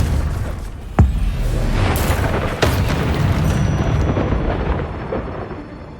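A Confringo spell blast in Hogwarts Legacy lands as a sharp, loud explosion, with a second burst following moments later, each dying into a long rolling, thunder-like rumble.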